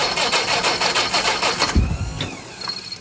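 A 2025 spring first start of a Crosley engine cranked on full choke: a fast rhythmic whirring crank lasting under two seconds, then a thump and sputtering as it nearly catches, loud and close, with no talking.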